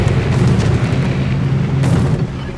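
A torpedo hit in World of Warships, a deep, rumbling explosion that swells loudly and rolls on for a couple of seconds, with no talking.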